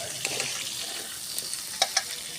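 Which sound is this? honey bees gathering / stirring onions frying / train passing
stirring onions frying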